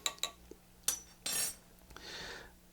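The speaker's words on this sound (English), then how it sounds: "I'm going to stir this drink just to kind of get some of that stuff dissolved" A spoon stirs a hot buttered rum cocktail in a glass, with melting butter and dissolving ingredients, making a few sharp clinks and scraping swirls, close and fairly quiet.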